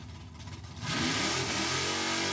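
A 1970 Oldsmobile Cutlass 442 drag car idles with a lumpy rumble, then the engine is revved hard into a loud, sustained roar that holds to the end.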